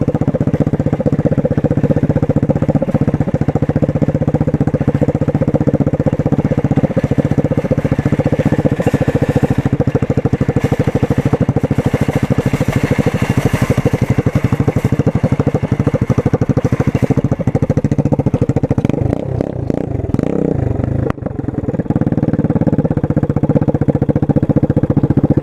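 125cc motorcycle cruising down a city street, its engine humming steadily and close throughout with a light mechanical clatter, briefly dipping and roughening near the end as the bike slows.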